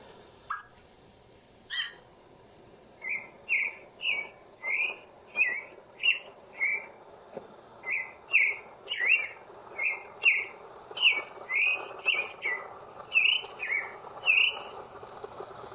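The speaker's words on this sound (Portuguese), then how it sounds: "Agora veja o canto do sabiá-poca." Rufous-bellied Thrush (sabiá-poca) song: a long, steady series of short, bright whistled notes repeated at an even pace after a couple of faint opening sounds, moderately near, with no talking.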